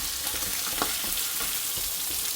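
Steady hissing sizzle of king fish frying in hot oil, with a few soft clinks and scrapes, no voices.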